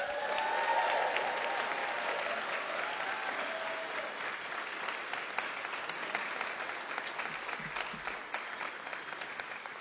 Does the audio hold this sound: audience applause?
yes